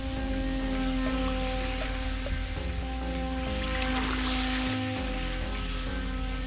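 Small Pro Boat Jet Jam V2 radio-control pool boat with a jet thruster, run on an outdoor pond, gives a steady whirring motor drone mixed with water wash, continuous and moderately loud, with no talking.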